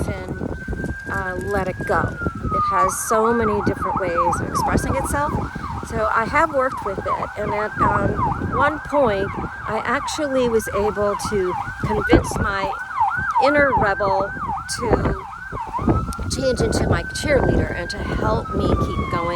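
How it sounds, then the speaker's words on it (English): Emergency vehicle sirens from nearby hospitals wail continuously behind a person talking indoors, the rising and falling tone clearly audible under the steady speech throughout. "I apologize for the sirens."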